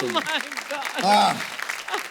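Studio audience on a comedy talk show claps in scattered bursts, partly buried under loud, animated talking and laughter that dominate the moment.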